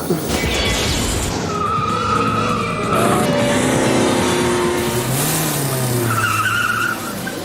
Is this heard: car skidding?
yes